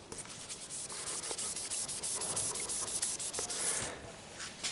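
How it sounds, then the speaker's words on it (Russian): Sandpaper rubbing over fresh lacquer along the edge into a groove, a steady, close scratchy rasp of repeated short strokes, fairly quiet, with no voices. "По граничке туда в канавочку всю пропиливаю."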